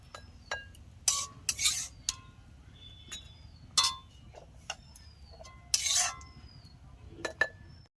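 A spoon clinks and scrapes against bowls as cooked ash gourd tutti frutti is portioned into four bowls, a series of sharp separate metallic taps over a quiet background hum.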